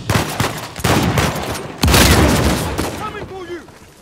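Loud bursts of gunfire from a weapon in the video game Uncharted 4, repeated shots in quick succession with booming impacts, while a person talks excitedly over the action.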